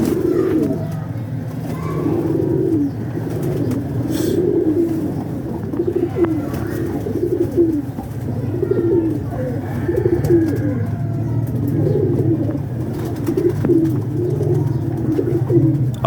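Pigeons coo steadily in repeated soft, throaty phrases on a rooftop at a pigeon club, with a low continuous hum beneath and no clear speech.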